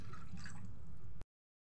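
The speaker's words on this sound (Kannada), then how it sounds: "ನೀರು ಹಾಕಿ ಪಾಸ್ತಾವನ್ನು ಬಾಯ್ಲ್ ಮಾಡಿಕೊಳ್ಬೇಕು." Water being poured into a pot for boiling pasta, a short, continuous splashing, gurgling stream close by that stops abruptly after about a second, with no voices.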